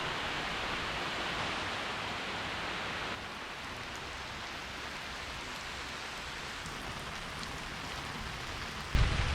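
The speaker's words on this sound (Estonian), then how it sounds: "Jäime vihma kätte." Steady rain pours down outdoors at a park swing in Viljandi, a dense continuous hiss that softens slightly partway through, with a brief bump near the end.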